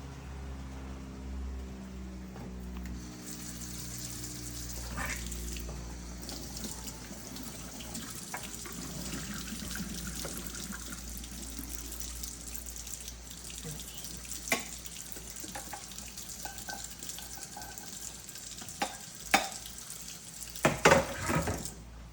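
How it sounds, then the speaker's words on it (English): Cooked green beans strained in a kitchen sink, water running and draining steadily with a low rush, a few clinks of pot and colander near the end. "I'm gonna go ahead and strain these green beans"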